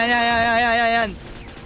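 A game item upgrade fails and the Ring of Sage shatters: a loud sustained tonal chime with stacked harmonics rings for about a second, then cuts off abruptly into a brief noisy crash.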